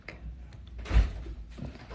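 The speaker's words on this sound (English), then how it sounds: "closing the door" A door is pushed shut indoors during a live chat, giving one dull thump in the middle of the clip, framed by softer rustling and handling noises.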